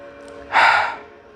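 A single deep breath during a somatic yoga practice swells suddenly and softly releases, a close, airy exhale over a faint steady room hum.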